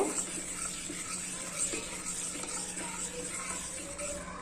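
Half a spoon of salt being stirred into a mixture for an atta vegetable roll, a steady soft scraping and swirling close by with faint clinks of utensil against the pan, no voices.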